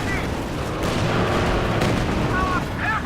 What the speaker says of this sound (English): There it goes, destroyed by a PTRS fire.